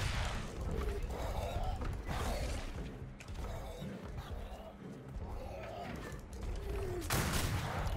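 A cannon cart firing in the pirate game Atlas: several heavy booms with mechanical creaks between them, spaced unevenly and fairly close, under a busy background.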